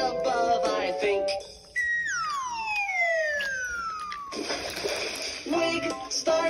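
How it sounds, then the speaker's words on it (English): A high dive ends in a splash of water, preceded by a long descending whistle as the diver falls, then a bright splashy burst over a busy, music-backed cartoon scene. "This water is for jumping in from high above, I think."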